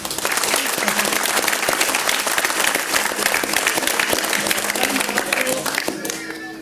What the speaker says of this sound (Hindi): तो इनके लिए जोरदार ताली।